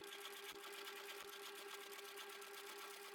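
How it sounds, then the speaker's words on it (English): A sewing machine with a large universal needle stitches through thick, multiple fabric layers, running steadily with a continuous motorized hum and rapid stitching chatter, close and alone. "My sewing machine is not liking the multiple layers."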